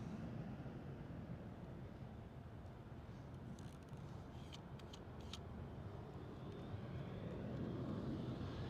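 A KLM Cityhopper Embraer E195-E2 jet taxis at Schiphol, a faint, distant, unbroken engine rumble and whine that holds steady throughout with no voices.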